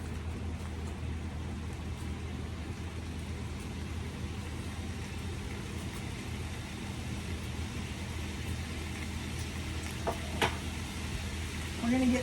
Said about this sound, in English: let's get some garlic in this pan over here with our meat